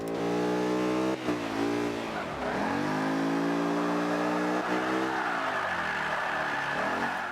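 A supercar engine in Forza 5 revs hard and steadily while drifting, a loud sustained whine that dips and climbs again with gear and throttle changes, with no talking.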